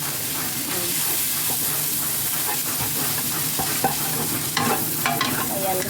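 Cabbage and bitter gourd (ampalaya) stir-fried in a pan, a steady loud sizzle with repeated scraping strokes of a spatula throughout, no talk.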